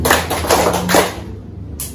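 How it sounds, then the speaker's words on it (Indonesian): Hands clapping in a concentration drill for children: three or four quick, close, bright claps in steady rhythm, then the room falls quiet. "Tepuk 3 kali."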